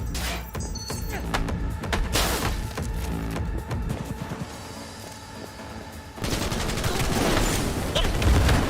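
Gunfire in the video game Cyberpunk: rapid bursts of automatic shots and heavy impacts rattle almost continuously, loud and close, with a sharper, denser volley in the final seconds and brief voices mixed in.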